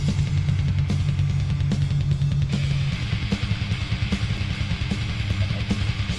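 Death metal song from a 1993 album with growled vocals over dense distorted guitars, pounding low bass and rapid drumming, loud and continuous throughout.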